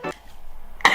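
Two short, close coughs from a girl who is allergic to animal hair. One comes at the start and one at the end, with a quiet pause between them.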